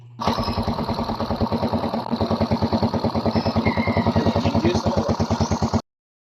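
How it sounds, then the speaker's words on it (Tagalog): A Yamaha Mio Sporty scooter engine, running low on oil and fitted with an aftermarket exhaust, idles steadily up close, a rapid even putter with exhaust pulses running continuously until it cuts off abruptly. "kailangan ko iparinig sa inyo ang makina na merong tambutso"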